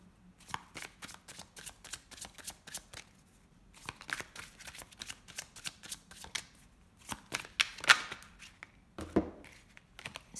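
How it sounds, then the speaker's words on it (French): An oracle card deck is shuffled and cut by hand, giving close, crisp riffling bursts and papery flutters in irregular clusters, with soft taps of cards between them in a quiet room. "Je vais juste faire une coupe avec l'oracle coup de cœur"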